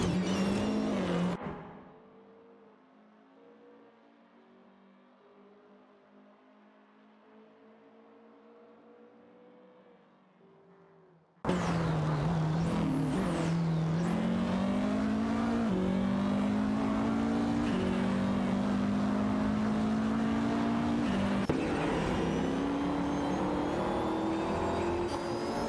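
Race cars in an AI-driven racing event, engines droning loud and steady as they run down a straight, following a quiet stretch of faint hum, with no talk.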